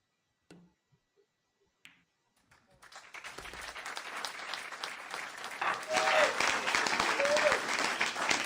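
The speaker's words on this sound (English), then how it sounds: "A wee bit of encouragement from the crowd there." A crowd at a 10-ball pool championship match breaks into sustained applause after a few isolated claps, building and growing louder, with a commentator speaking over it.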